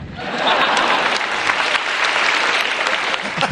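Steady applause from a studio audience at a stand-up comedy grand final, loud and sustained for a few seconds without pause.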